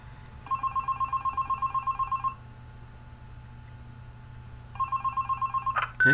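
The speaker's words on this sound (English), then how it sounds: "Pick up the phone." A telephone rings in the Five Nights At Candy's video game, a long run of rapid electronic trilling bursts, then a pause, then a second ring that cuts off abruptly. No voices, with a low steady hum underneath.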